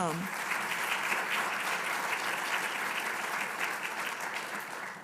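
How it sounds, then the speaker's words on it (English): A summit audience claps for its presenters in a fairly soft but steady, unbroken round of applause that tapers slightly at the close. "So a round of applause for our presenters."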